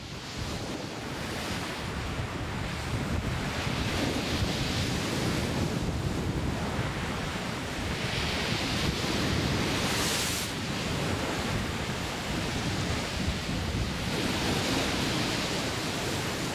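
Sea waves roll onto the shore in a steady, loud wash, swelling and receding in slow surges with wind buffeting the microphone.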